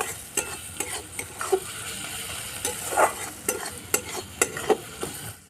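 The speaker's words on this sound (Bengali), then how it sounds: "পেঁয়াজ টমেটো আদা রসুন আর লঙ্কাটা ভালো করে কষিয়ে নেব" Onion, tomato, ginger, garlic and chili sauté in a hot pan for an egg and taro curry. A steady sizzle runs throughout, broken by irregular spoon clacks and scrapes against the pan.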